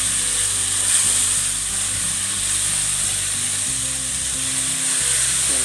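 Corned beef frying in a pan gives off a steady, loud, bright sizzle that holds evenly throughout, with faint low rumbling underneath and no voices.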